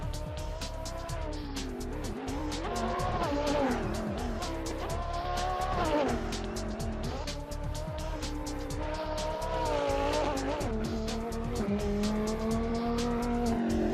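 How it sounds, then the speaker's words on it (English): An Audi R8 car mod in the Assetto Corsa racing game drives hard, its engine note rising and falling steadily through gear shifts for the whole stretch, with tire squeal mixed in. The sound is loud and continuous, with no talking. "So let's take a look at this awesome Audi R8 in action."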